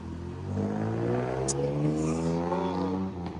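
A Ducati superbike engine revs up and holds a rising, steady drone nearby, loud and continuous.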